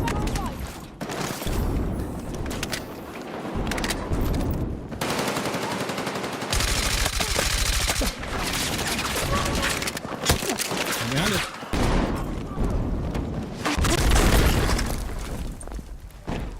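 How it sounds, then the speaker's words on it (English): Grenade launcher blasts mixed with rapid machine-gun fire in an online first-person shooter, a dense, continuous barrage of booms and bursts with players' voices talking throughout. "it's just grenade launchers, grenade launchers, grenade launchers"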